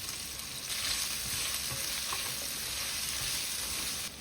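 Steady, close sizzling of onions being sautéed in a pan with browned pork, a continuous bright frying hiss with faint stirring scrapes and no talk.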